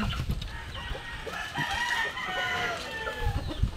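Backyard chickens clucking and squawking while being fed, busy overlapping calls from several birds at close range, with a few low thumps and rustles from the flock.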